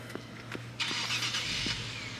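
A car passes on the street: a broad whooshing engine rush swells quickly and fades over about a second, heard at moderate distance over a low background hum.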